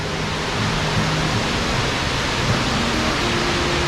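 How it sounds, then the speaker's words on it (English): Powerscourt Waterfall pours with a steady, dense roar of rushing water, close and loud and constant throughout with no voices. "Hey, that's Powerscourt Waterfall."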